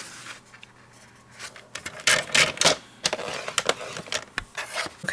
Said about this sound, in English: So right now I'm using a paper trimmer, so I'm going to go to 1 inch. Score this guy 1 inch, all 4 sides